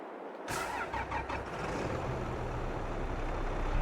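A New Holland tractor engine in Farming Simulator 22 cranks and catches after a brief silence, then settles into a steady, moderately loud diesel idle with a slight rise in revs at the end.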